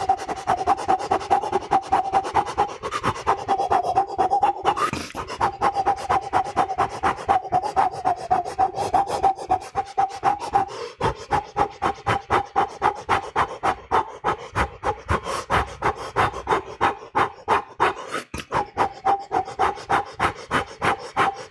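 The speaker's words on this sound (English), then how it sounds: "I'm just going to breathe in and out heavily, fast, for 30 seconds" A person breathes heavily and fast through the mouth, a rapid, even rhythm of raspy in-and-out pants, close to the mic and continuous, with no speech.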